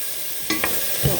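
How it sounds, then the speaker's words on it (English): Onions sauté in a pan on the stove: a soft hiss runs under two or three quick utensil scrapes and clinks. "I'm going to move you guys over to the stove while I saute these"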